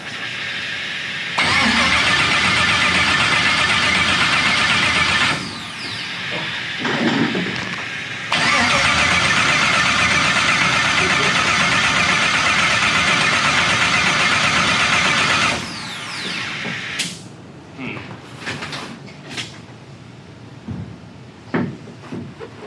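LS-engined Nissan S14 starting up, cranking into a loud, steady idle that runs for several seconds, then revving again before settling. Clicks and brief knocks follow once the engine cuts off.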